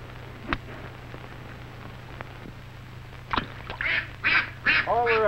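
Ducks on a golf course in a vintage W.C. Fields short break into a quick series of loud, close quacks after a few seconds of quiet hum and faint thumps.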